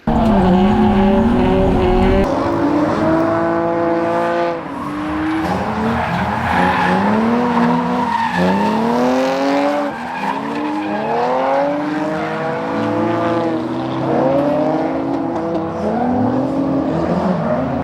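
A BMW E46 drift car skids and revs hard for a long stretch, with loud rising and falling engine howls layered over continuous tire squeal, close and overpowering throughout.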